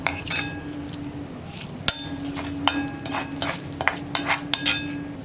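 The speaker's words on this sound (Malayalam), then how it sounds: "ഞാൻ ഇതാ നമ്മുടെ തേങ്ങ വറുത്തത് ഈ എരിശ്ശേരിയിലേക്ക് ചേർക്കുകയാണ്." Roasted coconut tipped into a pot of yam erissery and stirred through it, giving close, irregular metallic clinks and scrapes of a spoon against the vessel, with several sharp knocks spread across the clip.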